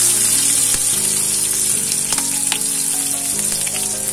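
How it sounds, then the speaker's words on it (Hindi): Onions fry steadily in a pan toward golden brown for a mushroom masala, giving a loud, continuous close sizzle and crackle with occasional faint stirring taps and no voices. "प्याज टिके गोल्डन ब्राउन होबा पर्यंत भाजिबे"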